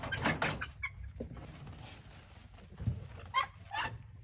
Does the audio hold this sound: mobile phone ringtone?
no